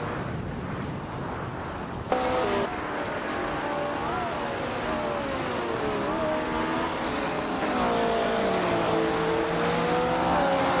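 A vintage McLaren M1B race car in a racing video game, engine whining and rising in pitch through gear changes, with a sharp burst near the start and a steady loud drone throughout.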